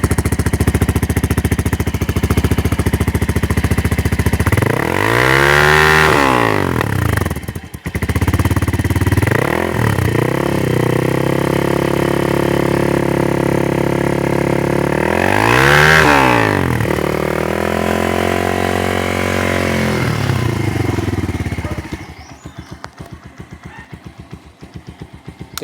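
Motorstar Cafe 150 motorcycle with an upgraded muffler, close-up exhaust note idling then revved twice in rising and falling sweeps, loud and raspy before cutting off near the end.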